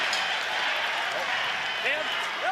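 Crowd noise at a men's world curling championship qualifier between Korea and Norway, a steady broadband roar of cheering and applause from a large arena audience, with voices audible in the mix throughout.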